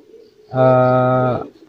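A breeding pigeon gives a single loud, rich coo lasting about a second, close to the listener, with faint background sound before and after.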